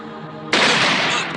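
Gunfire erupting in a dramatic scene, a sudden loud blast of dense, crackling noise that holds for most of a second over a lower background rumble.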